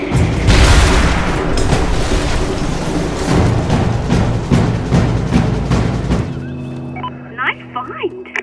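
Bombs exploding in Mercenaries 2: World in Flames, a loud rolling barrage of heavy booms and crackling blasts that gradually fades, followed by a quieter stretch with a tonal beep.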